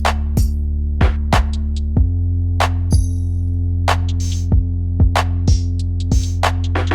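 A deep sustained Moog synth bass line plays under a sharp, punchy drum beat with kicks and snappy hits in a steady rhythm, loud and upfront.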